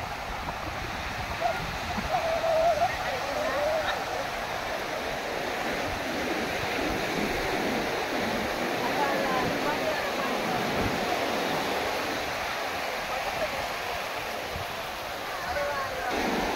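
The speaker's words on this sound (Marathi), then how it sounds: "सो आम्ही आलेलो आहोत आचरा बीचवरती" Sea waves wash in at Achara Beach on the Konkan coast, a continuous surging rush of surf that swells and eases, near and loud, with a brief distant whistle-like tone early on.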